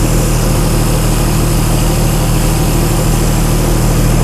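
Chrysler Slant 6 generator engine fitted with Holley Sniper EFI idles loudly and steadily up close, a dense low rumble with constant vibration and no voices.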